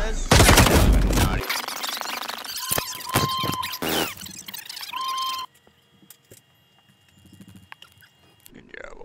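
Rapid gunfire bursts in an online shooter video game, loud and close, crackling over excited player voices calling out, then dropping to quieter background game sounds.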